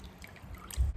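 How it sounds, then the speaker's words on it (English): Liquid being squeezed out of soaked, rehydrated hot and sour soup ingredients, faint drips and trickles that end in a louder close wet squish. "Squeeze all the liquid."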